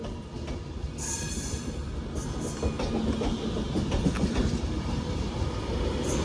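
A train runs through Manchester Piccadilly station, with a steady rumbling rolling noise and faint clicking of wheels over the rails, continuous and fairly close throughout.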